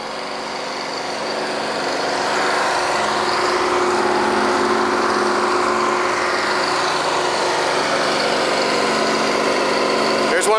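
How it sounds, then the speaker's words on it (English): A backup mud pump runs on a drilling rig at a well site, giving a loud, steady mechanical drone with a constant whine that holds unchanged throughout. "There's one of the mud pumps there."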